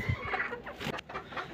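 Several hens cluck nearby in short, busy bursts, a lively overlapping chatter of farmyard chickens.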